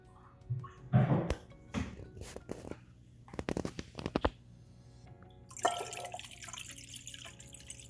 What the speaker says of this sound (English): Now I'm gonna add some tank water.